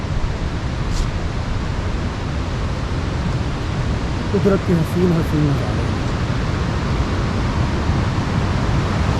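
A mountain stream rushes steadily through the Kalam valley in Swat, a dense, continuous wash of flowing water filling the whole stretch, while someone speaks briefly over it midway.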